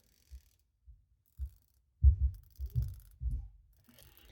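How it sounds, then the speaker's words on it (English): Rotating bezel on a Seiko Prospex SPB451 dive watch, a series of soft close clicks, a few spaced single clicks followed by quicker grouped ratcheting bursts, alone. "The bezel, while we're talking about it, sounds like this."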